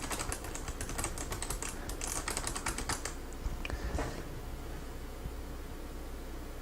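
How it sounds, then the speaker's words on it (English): Typing on a Razer Ornata Chroma hybrid membrane mechanical keyboard produces a quick, fairly quiet run of light clicking keystrokes for about three seconds, trailing off into a few scattered taps and low background hiss. "has a little slot for you to demo these hybrid membrane mechanical switches"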